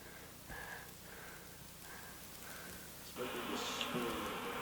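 Honeybees buzzing as a skep is shaken to dislodge them at a beekeepers' gathering; a faint hum grows louder and denser near the end, with brief intermittent tones beforehand.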